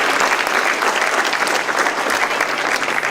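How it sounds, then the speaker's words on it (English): A room full of people applauds at a school citizen-of-the-month recognition, dense continuous clapping that stays loud and even for a few seconds. "But please give Tori a round of applause."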